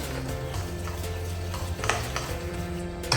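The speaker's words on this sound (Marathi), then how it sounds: "अगदी थोडासा सोडा घालायचा आहे. व्यवस्थित मिक्स करून घ्यायचं." Bread pakora batter with a pinch of soda is stirred in a bowl, giving a steady soft scraping and clinking at moderate level, with a faint hum underneath.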